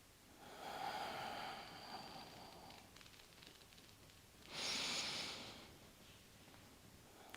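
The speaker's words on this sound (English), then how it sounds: "So a deep breath in." Deep breathing during a guided yoga home practice: a long, soft drawn-in breath followed after a pause by a stronger, airy exhale, close and quiet.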